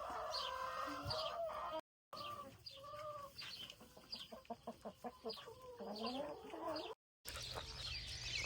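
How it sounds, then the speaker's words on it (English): Chickens cluck and squawk close by in a busy run of calls, hens chattering with occasional rooster cries, with no talking. "I like having the roosters. It seems to make the hens a little bit happier."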